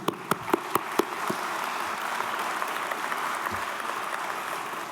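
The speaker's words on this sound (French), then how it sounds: "Je pense qu'on peut les applaudir aussi." Applause from an audience at a closing speech, starting with a few sharp separate claps that quickly merge into a soft, steady clapping sustained at a moderate distance.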